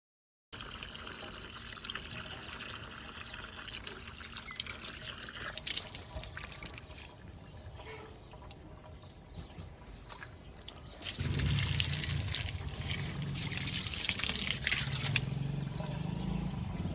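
Water trickles and splashes while potted plants are watered at home, a faint, steady pour that grows louder and fuller in the last few seconds.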